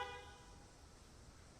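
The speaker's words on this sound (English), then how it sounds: "the horn lets you know that the car is securely locked and the alarm system is on" A 2021 Mazda CX-30 gives a single short horn chirp when locked, a brief tonal toot at the very start that cuts off quickly into quiet background.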